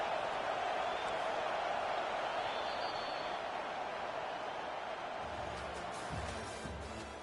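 Home crowd in College Football 25 roaring on a 3rd-down defensive stand as Kansas plays South Carolina, a steady dense wash of stadium noise across the whole stretch, easing slightly toward the end with faint low thuds.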